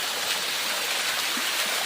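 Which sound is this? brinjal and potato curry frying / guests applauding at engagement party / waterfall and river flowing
waterfall and river flowing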